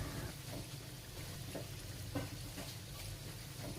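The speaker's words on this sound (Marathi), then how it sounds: "समोसे तळताना ते सारखे वर खाली करावे जेणेकरून त्यांना एकसारखा सोनेरी रंग येतो" Samosas deep-fry in hot oil over medium heat, giving a steady, close sizzle and bubbling that runs throughout, with faint stirring or turning noises now and then.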